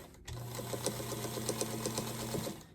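A sewing machine runs in one steady burst of rapid, even stitching, close and clear, sewing quarter-inch seams on a Christmas quilt before stopping.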